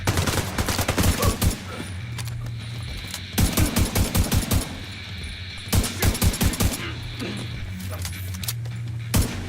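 Gunfire in the shooter game The Division 2 comes as three rapid bursts of automatic shots, each a cluster of sharp cracks a few seconds apart, with quieter game ambience and occasional clinks between them.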